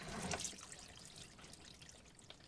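Watery fluid trickles and dribbles from the engine of an old 1965 Buick Riviera, a faint continuous pour with a splashy start and scattered drips, no voices.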